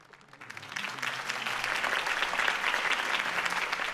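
In the Telltale Batman video game, a crowd breaks into applause after Harvey Dent's campaign speech. The clapping swells in after a quiet start and holds as a dense, even roar of many hands.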